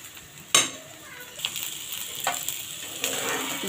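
Whole spices and masala sizzle steadily in hot oil for chicken curry, frying toward golden brown, with a few sharp stirring scrapes and clinks against the pan over the constant hiss.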